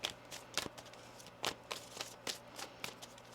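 Tarot cards are shuffled in quick, crisp riffling bursts, about eight soft separate flutters spread over a few seconds, close and quiet with no talking.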